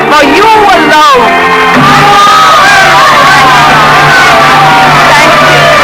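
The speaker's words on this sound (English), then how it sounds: "the supreme exaltation when you hear the full, frenzied applause of an audience for you" A theater crowd cheers and whoops in a loud frenzy for a performer, with rising shouts and roaring voices that stay dense and close, over what sounds like steady clapping.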